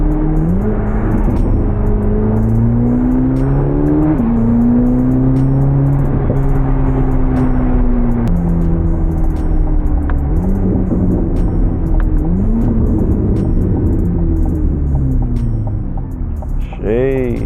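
A 1000-horsepower Corvette ZR1 engine drones loudly and continuously from inside the car, its pitch rising and falling through repeated revs and gear changes, with faint speech mixed in.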